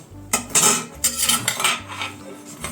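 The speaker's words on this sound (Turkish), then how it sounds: "Kaşıkla karıştıracağız artık." A metal spoon clinks and scrapes around the inside of a cooking pot, several quick knocks and rattles over a few seconds in a home kitchen, close and clear with no talking.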